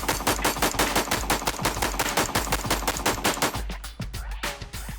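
A rifle fires frangible polymer bullets at a steel target at close range, giving a rapid string of sharp, loud cracks in a fast, fairly even rhythm that thins out toward the end.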